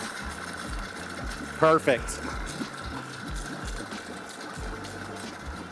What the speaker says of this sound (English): We have a running engine.